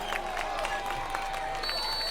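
A high school football crowd claps and cheers for the defense on fourth down in a Springfield versus White House Heritage game, a steady wash of applause and shouts with a whistle-like tone and faint announcer talk underneath.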